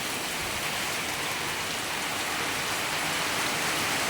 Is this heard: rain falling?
yes